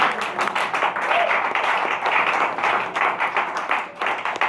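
A church congregation claps in rapid, uneven rhythm, many hands at once, loud and near, with voices faintly mixed into the applause.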